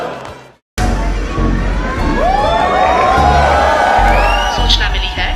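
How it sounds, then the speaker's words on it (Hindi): Audience at a comedy show erupting in cheering, whoops and clapping after a brief silence, a loud, dense crowd roar sustained for several seconds with shouting voices mixed in. "एक बार जोरदार तालियां सबके लिए।"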